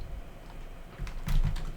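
Keys clatter on a computer keyboard, a few faint soft taps followed by a closer burst of quicker clicks toward the end, over a quiet room hum.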